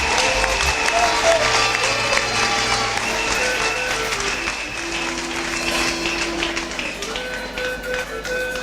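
A church congregation applauds and cheers after a healing: loud, sustained clapping from a crowd, mixed with voices and a steady tonal hum, filling the room throughout.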